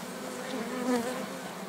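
Honeybees buzz steadily around beehives at spring's start as colonies grow, a dense close swarm hum with a slight swell near the middle, no talk.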